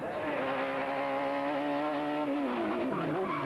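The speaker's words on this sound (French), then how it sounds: "Voiture ouvreuse, la Seat Ibiza Kit Car d'Erwin Weber avertit qu'ils vont arriver." Erwin Weber's Seat Ibiza Kit Car, the opening car at the 1995 Rallye Catalunya, passes close with a loud, high-revving engine note that holds steady then drops in pitch as it goes by.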